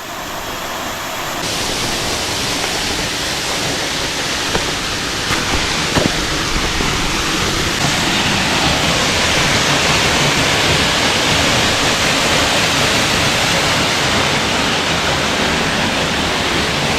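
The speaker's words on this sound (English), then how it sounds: "And this is as high as you can go at this waterfall." Waterfall in Niigata, Japan roaring as a steady, dense broadband rush of falling water, loud and close and unbroken throughout.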